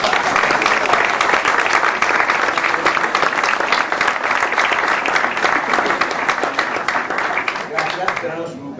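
A lecture audience breaks into loud, sustained applause from many hands, dense and even for several seconds before beginning to thin out at the end, with no talking over it.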